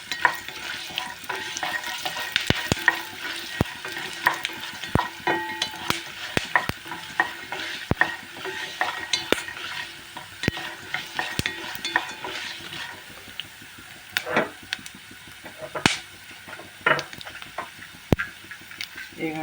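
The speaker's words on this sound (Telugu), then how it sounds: "అవి వేగుతుండగానే 2 స్పూన్లు ధనియాలు వేసానండి." Flaxseeds and coriander seeds dry-roasting in a pan, a dense crackle with frequent sharp scrapes and clicks of stirring spread across the whole stretch, close and fairly quiet, without speech.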